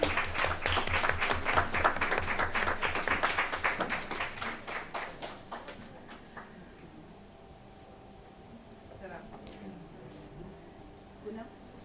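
Audience claps at a university career guidance event, with brisk applause for a few seconds that gradually thins and fades out, leaving a quiet hall with faint background sounds.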